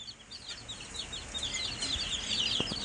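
Twenty-six five-day-old broiler chicks peep and chirp continuously in a dense, overlapping chorus, fairly close but soft.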